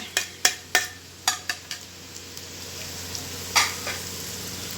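Sliced onions with chopped and whole green chilies cooking for a Lahori chana recipe, a soft pan sizzle under a run of sharp spoon scrapes and taps that thin out, then one more knock.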